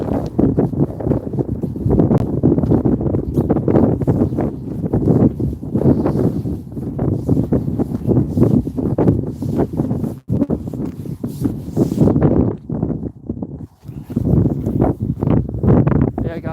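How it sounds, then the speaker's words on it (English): Strong outdoor wind batters a phone microphone with continuous heavy, rumbling buffeting for the whole stretch, and a voice is partly buried underneath. "it's very windy up here and it does collide with the phone's sound and stuff"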